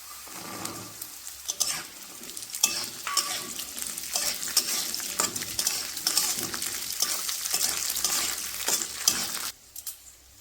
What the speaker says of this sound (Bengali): আমাদের গাজরগুলো হালকা হালকা ভাজা হয়ে গেলে একটু আমরা মটরগুলোকেও দিয়ে দেব।